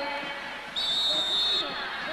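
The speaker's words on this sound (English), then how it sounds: "Jennings pushing it forward after the whistle, and a foul called against Germany." Referee whistle at a women's World Cup semifinal soccer match between Germany and the USA gives one sustained shrill blast over stadium crowd noise.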